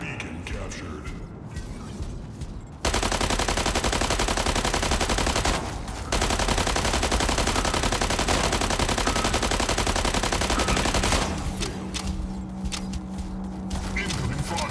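Mechs in the game Mech Arena trade heavy gunfire, a loud dense barrage of rapid machine-gun bursts sustained for several seconds with a brief pause, backed by game sounds and occasional voice announcements.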